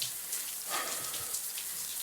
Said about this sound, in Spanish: Al abrir la ducha, un chorro de agua fría cayó sobre él desde el sistema de lluvia